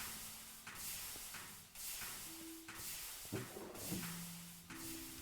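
Steam tank machine in the GregTech: New Horizons modded game, giving off steady broad hissing in repeated bursts of about a second each, with faint tonal machine hums and clunks between them and no talking.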